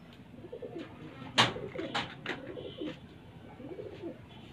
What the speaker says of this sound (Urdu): یہ نیلا کبوتر ہے